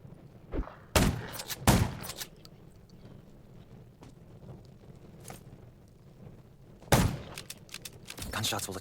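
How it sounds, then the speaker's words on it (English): Gunfire in the zombie survival video game Undawn: several sharp, loud single shots spaced apart, with a quick pair near the start and another blast later, over a quiet game background. "Gunshots will attract more zombies."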